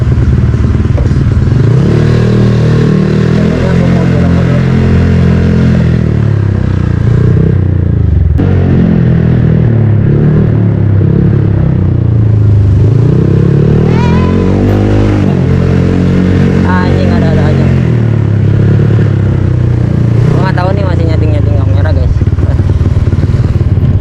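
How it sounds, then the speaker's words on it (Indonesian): A motorcycle fitted with an aftermarket Amro exhaust idles and revs repeatedly with a loud, raspy exhaust note, rising and falling in pitch, with people talking nearby. "nyobain knalpot Amro."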